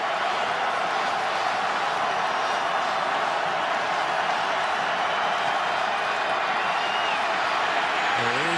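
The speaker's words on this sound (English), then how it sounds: "You can hear the crowd getting loud." Football stadium crowd at a 2014 Marshall Thundering Herd vs. Western Kentucky Hilltoppers college game, a dense, continuous roar of many voices that stays loud and steady throughout, with a commentator's voice faintly over it.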